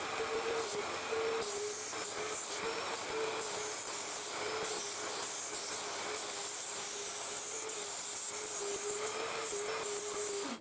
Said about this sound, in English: I use a wet vac to extract as much moisture as possible